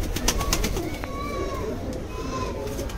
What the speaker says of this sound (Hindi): ऑल टोटल मद्रासी कबूतर है भाई